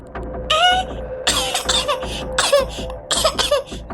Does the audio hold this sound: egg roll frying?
no